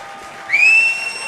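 Fans at Hastings Stadium react to a game-tying hit in a Toronto Maple Leafs versus Guelph Royals baseball game, a sharp rising whistle over scattered applause and crowd murmur that swells briefly, then eases.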